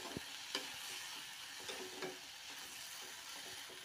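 Dhekia fern greens fry in a pan on a gas stove, giving a faint, even sizzle broken by a few soft stirring taps and clicks, with no one speaking.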